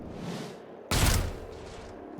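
A single loud burst of gunfire from a squad firing in the tactical game Chimera Squad, cutting in sharply after quiet ambience and decaying into a lingering rumble.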